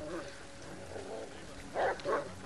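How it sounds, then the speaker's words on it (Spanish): Two short dog barks in quick succession in the video game Beyond: Two Souls, rising out of a low, steady ambient background of rain, with faint muffled sounds earlier. "Cállate, estúpido perro."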